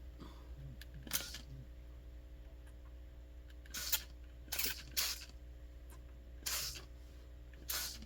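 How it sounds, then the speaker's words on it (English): A hand spray bottle spritzes water onto a mineral paper painting in five short, quiet hissing bursts spaced irregularly over a low steady room hum. "Now, I'm going to spritz."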